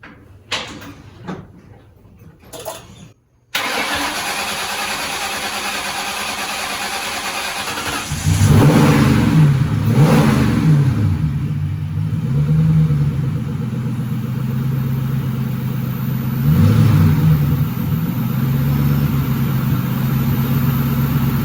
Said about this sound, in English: It took a second for it to crank over because we had cleaned that throttle body